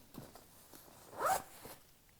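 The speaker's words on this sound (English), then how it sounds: "your zipper at the top can also come down." A zipper on FLY Carbon backcountry snowmobile pants is pulled open in one quick, close rasp that swells briefly and fades, with quiet rustling before and after.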